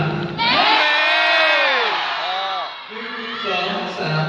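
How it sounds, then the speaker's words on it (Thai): A large crowd at a festival event shouts together in one sustained, loud, high-pitched roar lasting several seconds, rising all at once and then tapering off with scattered voices. "นับ1 ถึง 3แล้วตะโกนพร้อมๆกันนะครับ"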